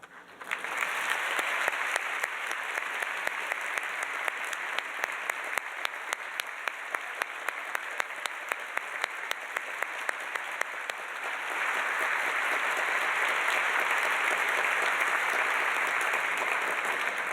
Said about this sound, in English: recognize you with a round of applause